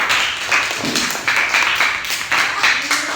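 Classroom pupils clapping together in rhythmic bursts of quick, dense claps at close range, repeating several times over a few seconds.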